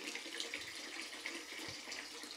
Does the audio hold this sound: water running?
yes